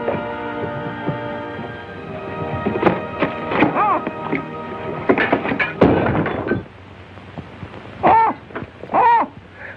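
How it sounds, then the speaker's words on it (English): An owl hoots in a 1938 radio mystery drama, a few clear hoots heard near the end after thuds and clattering sound effects under a busy scene. "Now, Tenny, I'm beginning to like that bird."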